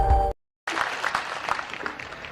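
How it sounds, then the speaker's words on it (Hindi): Short, thin applause from the audience at a Hindi comic poetry gathering in Bhopal, with scattered clapping after a brief silence. "इतनी तालियां तो मैं अकेला भी बजा सकता था।"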